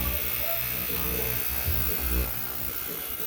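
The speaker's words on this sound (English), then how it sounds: "sonic cleaner here. Just about winding down." An electric sonic cleaner runs with a loud, steady electric buzz and hum that holds close and even throughout, no voices over it.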